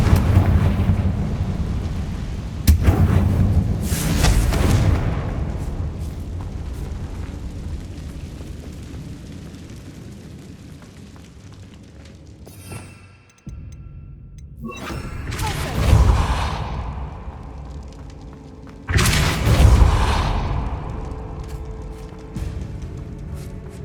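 Confringo fire-blasting spell explosions in Hogwarts Legacy on PS5: several heavy, rumbling booms in separate bursts, each fading into a long roar, loud and close, with a short near-silent gap partway through.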